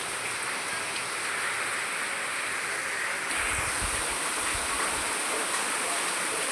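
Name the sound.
heavy rain falling in a village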